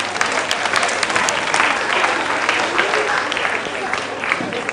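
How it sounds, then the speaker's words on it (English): An audience at a school quiz breaks into steady applause, a dense, loud wash of clapping that holds for several seconds with a few louder claps standing out, while voices murmur underneath. "A round of applause, ladies and gentlemen."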